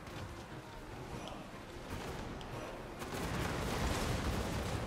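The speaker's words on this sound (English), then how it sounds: "let's start blasting them with grenades" Grenade blasts and gunfire in a Total War: Warhammer 2 battle, heard as a constant distant rumble of explosions and shots that grows somewhat louder toward the end.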